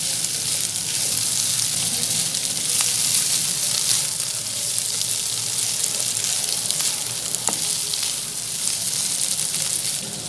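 Mutton kidneys fry in masala with a steady, loud, close sizzle that crackles without a break. Small pops stand out here and there against the hiss.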